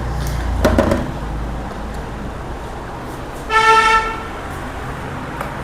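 A vehicle horn toots twice outdoors, the first blast short and the second longer and clearer, over steady background hum.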